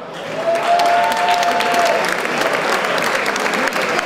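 Crowd applause and cheering greeting economist Andrew Schiff at Liberty Fest NYC 2011, steady loud clapping from a sizable audience with a whistle piercing through early on.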